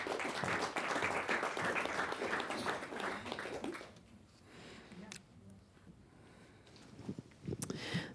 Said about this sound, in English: Please clap your hands for Inanna Lallerstedt from Sweden.